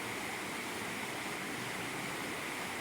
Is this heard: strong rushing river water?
yes